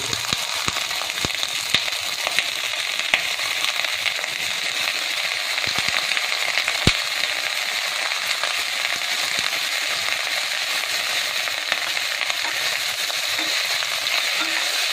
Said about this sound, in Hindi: इसे भी आधा 1 मिनट चला लेते हैं